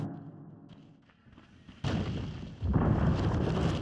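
A tower is destroyed in Dota 2 with muffled thuds and rumbling crashes. A sudden heavier impact is followed by a louder, sustained crumbling roar.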